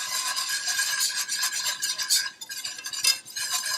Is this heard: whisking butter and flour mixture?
yes